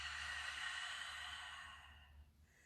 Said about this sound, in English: And exhale, slowly release.